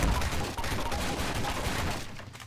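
Gunfire from a pistol in the Garry's Mod video game, a steady dense crackle of shots lasting a couple of seconds and fading slightly at the end.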